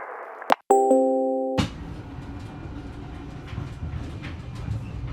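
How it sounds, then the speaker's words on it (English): A few bright chimes ring out, then a train rumbles and clatters past at a steady roar that slowly eases. "whenever the train passes your flat"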